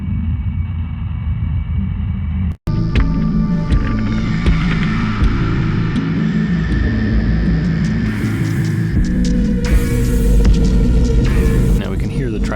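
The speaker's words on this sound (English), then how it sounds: "This is the theme for Subject 1, Evander, who manipulates machinery and androids." A theme track for a machinery-and-android character plays through an audio mixing tool, a dense, droning electronic bed with steady low throb and layered tones, loud and continuous, briefly cutting out for an instant before resuming.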